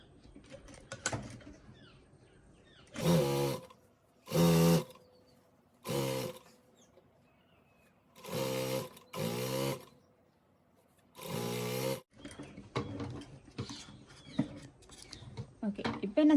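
Sewing machine stitching a folded-down hem, running in several short bursts of a second or so each with quiet gaps between, close and fairly loud, with handling sounds and faint speech around the runs.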